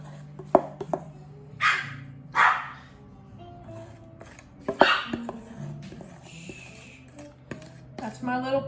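A puppy barks from another room in a kitchen, several sharp separate barks spread across the stretch, moderately loud over low background hum and small clatter.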